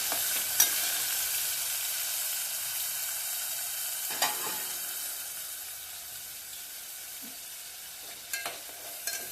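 Brinjal curry sizzles steadily in hot oil with onion, tomato and masala, while a spoon scrapes and stirs the pan in a few distinct strokes, with no voices.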